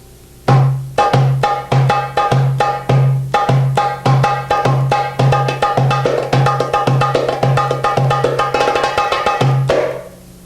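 A dumbek hand drum beats a steady two-beat Ayyub rhythm of deep low strikes and sharp high slaps, loud and close, repeating without pause.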